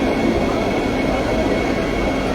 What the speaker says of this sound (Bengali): আর এই হচ্ছে ঝাঁ চকচকে ট্রেন